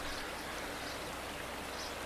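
A stream of water flows steadily as a continuous, even broadband rush, faint and constant throughout with no voices.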